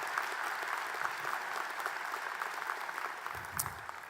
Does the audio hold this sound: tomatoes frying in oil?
no